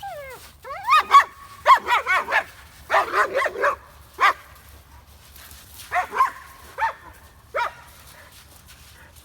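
A leash-reactive German Shepherd barks repeatedly in clustered bursts, loud and close, with sharp yips and whining between barks and pauses of quiet in a calm outdoor setting.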